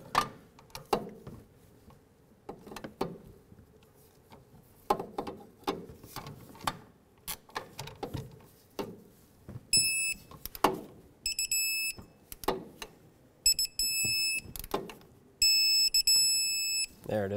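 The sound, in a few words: torque wrench tightening pinch bolt on Nissan Frontier steering shaft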